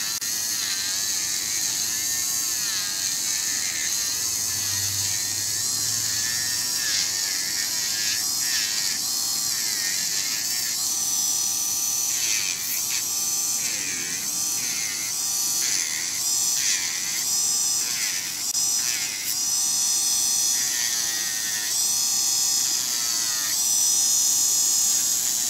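An electric nail file grinds away a fiberglass nail with a steady, high-pitched motorized whine that rises and dips as it moves back and forth, close and continuous throughout.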